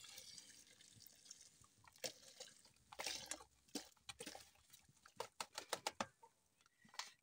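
Milk is poured into tea cooking over a village fire in Africa, giving a wet, irregular pattering and dripping with brief splashes that thicken toward the end, close and fairly quiet, with no talking.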